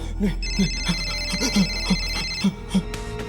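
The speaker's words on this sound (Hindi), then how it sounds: "विवेक फोन ही उठा रहा।" A telephone rings in a repeated electronic pattern over a steady background hum, with short tonal bursts recurring roughly every third of a second.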